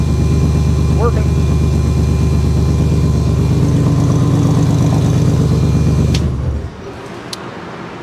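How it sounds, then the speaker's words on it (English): A Toyota Supra Mk II engine running on a Holley Dominator ECU idles loudly and steadily close by, a low rumbling drone that cuts off sharply near the end, leaving quieter background noise. "I just got my Mark II Supra running on the Holley Dominator"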